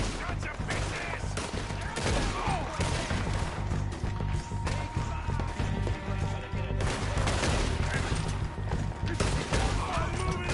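Gunfire rattles through a shootout in the Red Dead Redemption 2 video game: rapid, dense volleys of sharp shots in irregular bursts, some near and some farther off, running continuously with clattering impacts and faint voices mixed in.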